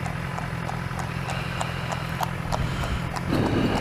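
Steady hoofbeats clip-clop at a regular walking rhythm on a road, a horse pulling something ahead, heard over a constant low BMW S1000XR motorcycle engine hum.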